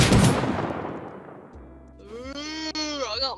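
Shotgun blasts in the online survival game Rust, a loud burst of gunfire at the start that fades into a lingering tail, followed by an excited voice shouting over it.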